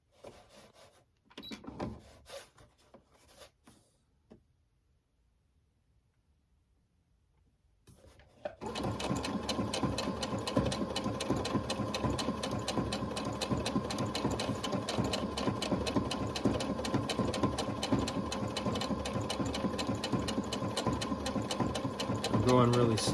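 A sewing machine stitches slowly at first in short, hesitant bursts with pauses, then runs in a steady, continuous rhythmic whir for the rest of the time, close by.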